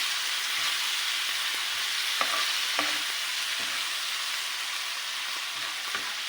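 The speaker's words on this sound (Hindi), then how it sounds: "और अब हम इसके अंदर ऐड करेंगे सोया सॉस। और इसे हम इसके अंदर अच्छे से मिक्स करेंगे।" Chicken pasta with soy sauce is mixed in a pan over a constant bright sizzle, with a few soft utensil taps and scrapes scattered through, close and moderate with no voices.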